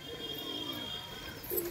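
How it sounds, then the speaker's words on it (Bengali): Pigeons kept indoors during rain give soft, low coos at close range over a faint steady background hiss. "ন্যাপতা থেকে শুরু করে সব পায়রা আছে।"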